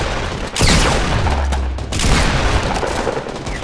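Heavy, rapid shotgun blasts in the Fortnite video game boom close and loud in quick succession, layered over continuous gunfire and explosive noise from a chaotic fight.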